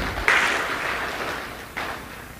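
Audience at a North Sumatra government event applauds for Pak Tony, a former acting governor: a short burst of clapping that swells twice and carries on steadily, moderately close, with no talk over it.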